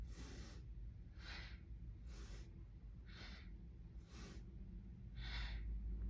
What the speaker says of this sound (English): inhale as you go to the right and exhale as you go to the left